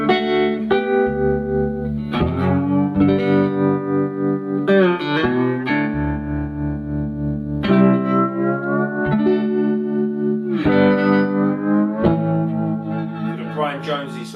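Slide guitar on the neck pickup through a Carl Martin Head Room reverb and Surf Trem tremolo with no delay: sustained gliding notes and chords ring out with shimmering tremolo and reverb tails, loud and alone.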